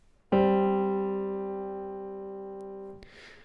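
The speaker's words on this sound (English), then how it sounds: "that interval of a perfect fourth" A single sustained two-note perfect fourth interval rings out clearly and decays slowly for nearly three seconds before being cut off, with a faint noise after.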